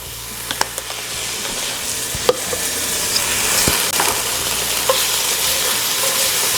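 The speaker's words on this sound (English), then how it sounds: "we're gonna go in a little bit of garlic" Garlic sizzles steadily in hot avocado oil in a pan, a close continuous frying hiss with occasional clicks of stirring and utensil taps against the pan.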